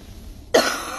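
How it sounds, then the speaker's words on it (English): A single sharp cough bursts out abruptly midway through a quiet room recording during a live church devotion, loud and close, followed by a brief raspy tail. "The more I talk, the more I need to cough."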